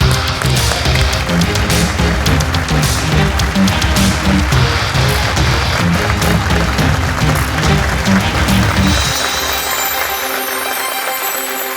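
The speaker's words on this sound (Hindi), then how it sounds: "तो जोरदार तालियों से स्वागत करते हैं" Audience applause welcoming two pitchers onto a business pitch show stage, loud sustained clapping over rhythmic background music that fades out near the end.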